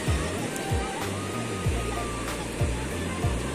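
Steady rushing surf fills the scene at Serang Beach in Blitar, with low rolling thumps recurring every second or so as waves break nearby.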